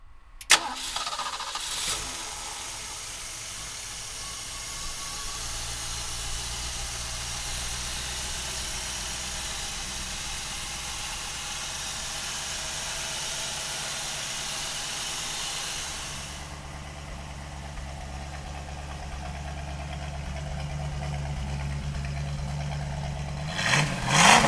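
A 1967 Ford Mustang GT cranks and fires up, then settles into a steady, rumbling idle that holds close and loud for about twenty seconds, with a brief rev change near the end and no talking.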